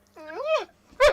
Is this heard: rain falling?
no